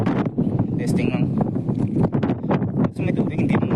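Gusty wind buffets the microphone on a boat at sea, a steady low rumble under near, constant talking among people.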